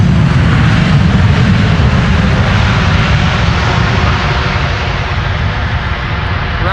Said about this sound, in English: A buttery smooth touchdown. Deployment of the reversers, a wheelie and spray.